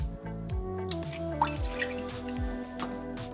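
Water dripping and trickling into a glass bowl for a kitchen chemistry experiment, a series of small, close, plinking drops with falling pitch, fairly quiet and alone.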